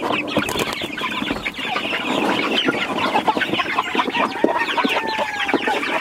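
Roosters and hens cluck steadily and close by, a dense overlapping chatter of farmyard chickens with occasional louder calls, with no voices.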